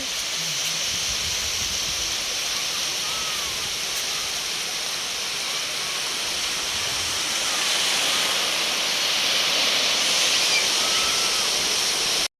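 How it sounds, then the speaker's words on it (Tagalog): Strong sea waves crash on a busy swimming beach, making a continuous roaring wash that swells louder toward the end, with faint crowd sounds mixed underneath. "Ang lakas ng alon."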